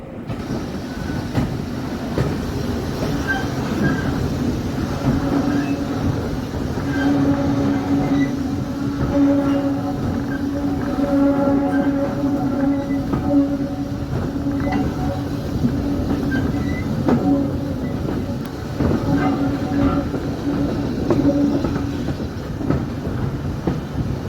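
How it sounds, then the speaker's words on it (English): Steam-gala trains on the Tanfield Railway roll across the bridge over Causey Burn with a continuous rumble of carriages and wheels, rhythmic clicking and occasional metallic squeals, heard at moderate distance with no talk. "I captured the trains crossing the bridge over Causey Burn."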